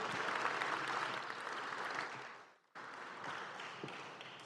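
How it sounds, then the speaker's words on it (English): Applause from a live audience at an evening celebration in Charlotte, North Carolina, a dense, steady clapping that briefly dips to near silence before resuming at full strength, with no talking over it. "Everyone give a round of applause for Laura."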